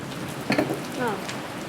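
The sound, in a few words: rain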